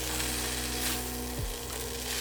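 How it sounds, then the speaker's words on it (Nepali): Boiled egg noodles stir-fried in a hot pan, giving a steady close sizzle and frying hiss throughout, with a brief scrape as the noodles are moved. "नुडल हालेर हल्का चलाउनुपर्छ सुरुमा."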